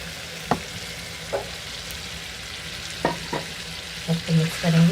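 Eggplant frying in a pan gives a continuous soft sizzle, with scattered spoon knocks and scrapes and a cluster of louder stirring clatter near the end, and no voices.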